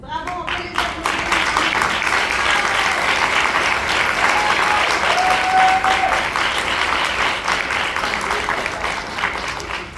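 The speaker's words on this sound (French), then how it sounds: "Bravo, on fait les applaudissements." A group applauding in a dense, loud, sustained round of clapping lasting the whole stretch, with brief voices mixed in near the start and middle.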